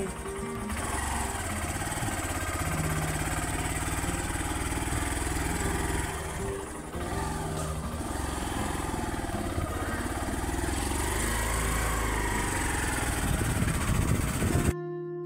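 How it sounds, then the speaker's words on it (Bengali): A motorcycle on a bumpy, uneven village road, one that keeps stalling, runs with a loud, steady engine drone for about fifteen seconds before cutting off abruptly. "গ্রামের এই উঁচু নিচু পথে আমার বাইকটা বারবার স্টার্ট বন্ধ হয়ে যাচ্ছে।"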